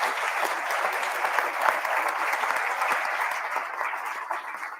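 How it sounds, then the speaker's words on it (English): Audience applause welcoming reporters at a community Q&A on redistricting, dense and sustained clapping from a roomful of people, fairly loud and steady before tapering slightly at the end. "This would be a nice time to give them a round of applause for being here tonight."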